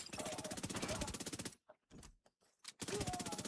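Rapid SMG bursts in The Division 2, loud and close, with two long strings of automatic fire split by a short pause of scattered shots and quieter clatter.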